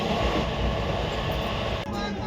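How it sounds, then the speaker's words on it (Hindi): Passenger train rumbling along on a journey through Uttar Pradesh toward Ajmer, with a steady low rolling roar and rattle of the carriages throughout and a brief dip near the end. "ये ट्रेन बार बार इतना रुक रुक के चल रही"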